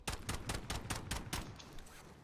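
Rapid gunfire rattles in Call of Duty Warzone on Rebirth Island, a quick string of about seven sharp shots that fades into a softer tail.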